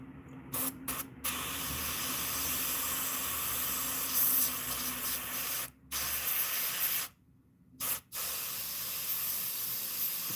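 An airbrush sprays paint onto bluegill fish lures in steady, close hissing bursts, broken by several short pauses and one longer gap where the trigger is released.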